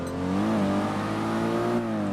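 A car engine revs in the racing game Test Drive Unlimited 2, a loud, steady droning roar whose pitch climbs and dips across the whole short stretch, with no voices over it.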